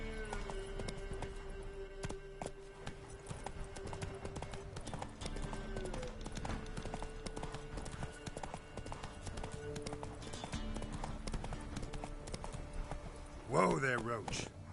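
Roach the horse gallops in The Witcher 3, a steady quick clip-clop of hooves running throughout under game sounds and talk, ending with a short whinny.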